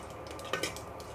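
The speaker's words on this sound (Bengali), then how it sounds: "গরম মশলাটা একটু প্যানে নেড়ে নিয়েছি" Whole garam masala with cloves is stirred in lightly warmed oil in a pan: a brief, faint scrape marked by two soft clicks.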